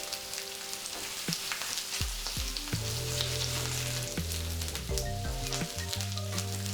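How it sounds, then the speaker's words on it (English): Chicken pieces brown in a hot skillet for a creamy chicken dinner, giving a steady, close sizzle and crackle that continues under soft background music. "we're gonna flip them around and also give a couple of minutes on the other side"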